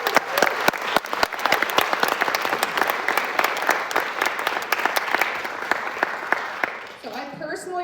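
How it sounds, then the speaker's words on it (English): A theatre audience at a Mother's Day musical matinee breaks into sustained, dense applause that fills the room for several seconds before thinning out, with a voice starting to speak at the end. "Let's give her one more round of applause"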